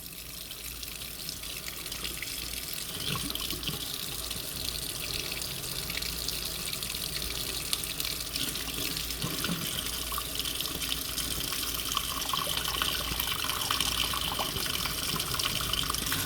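Tap water gushes steadily into a pot being filled for pasta on a home kitchen sink, a continuous rushing stream that grows slightly fuller as the pot fills.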